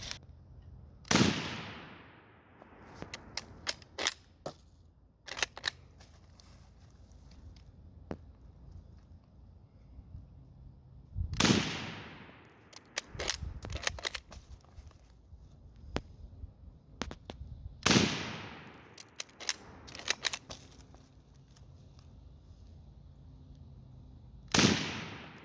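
French Lebel rifle fired from the prone position, four loud sharp gunshots spaced several seconds apart, each with a ringing decay, with clicks and rattles of the bolt between shots.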